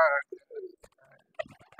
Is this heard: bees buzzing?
no